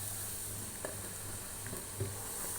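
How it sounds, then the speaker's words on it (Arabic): Potato slices frying in hot oil for yellow koshari, a steady low sizzle and hiss with a couple of faint pops, close and even throughout. "البطاطس بتاعنا بتتحمر اهي"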